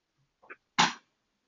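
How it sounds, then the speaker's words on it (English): A pet cat sneezes indoors: one sharp, close burst, preceded by a faint little snuffle, with no talking around it. "my cat just sneezed"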